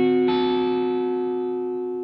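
Distorted electric guitar rings out a single sustained psychobilly chord, a barred 1950s-style shape, struck once and left to decay slowly over about two seconds.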